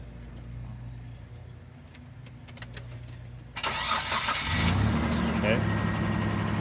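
Keys jangle in the ignition of a Mitsubishi Montero, then the engine cranks and catches, settling into a loud idle; a voice speaks briefly.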